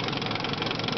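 A 1967 Johnson 6 hp outboard motor runs steadily, a close, dense, buzzing putter with an even rapid rhythm and no pauses.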